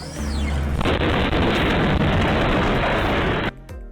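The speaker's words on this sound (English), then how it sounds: "Ida is to blame for this house explosion in Rahway, New Jersey." A house explosion in Rahway, New Jersey, after Hurricane Ida flooding: a loud, sudden boom bursts out and rumbles on for a few seconds before cutting off abruptly, heavy and close.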